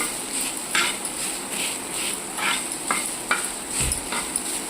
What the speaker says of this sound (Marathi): अशा प्रकारे मी इथे कांदा भाजून घेत आहे